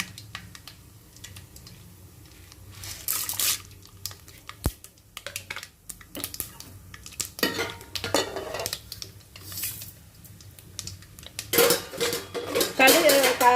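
Mustard seeds splutter in hot sesame oil for a garlic and peanut tamarind puli kaichal, sending scattered sharp pops and crackles between utensil clinks, with a voice talking at times.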